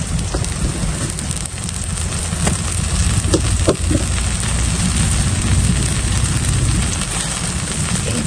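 Spices and salt hitting hot mustard oil in a pan, a loud, dense, continuous sizzle and crackle that holds steady throughout with no talking.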